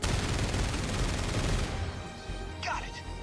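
Dense, rapid gunfire from the video game 13 Sentinels: Aegis Rim roars for about a second and a half, then cuts to a quieter hum with a brief voice-like sound.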